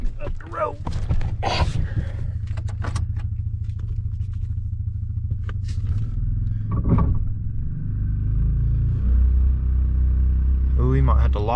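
An old OBS dually truck's heavy engine rumbles and strains as it drives up a road, a steady close low drone that builds toward the end, with a voice talking over it at times.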